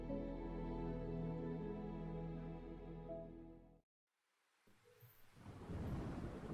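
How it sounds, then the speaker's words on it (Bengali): A heavy monsoon thunderstorm with steady rain plays as a sound effect in a Bengali audio story. A steady tonal bed gives way to a brief silence, then a loud wash of rain and rumbling thunder swells back in. "দিন রাত অবিশ্রান্ত বৃষ্টি, ঘন কাজল কালো মেঘপুঞ্জে আকাশ ছেয়ে আছে।"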